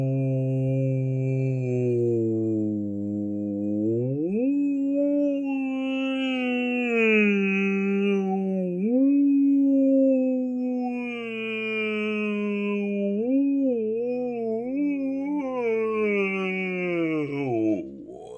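A human voice imitates a whale call for a joke, giving one long, moaning, wavering drone that slides up and down in pitch, sustained and loud with no other sound.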